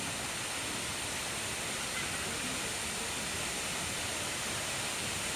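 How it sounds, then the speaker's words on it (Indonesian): Sedudo waterfall in Nganjuk roars as a dense, constant wash of falling water, steady and fairly faint throughout with no voices. "Seperti inilah keadaan air terjun Sedudo yang menjadi wisata andalan Kabupaten Nganjuk."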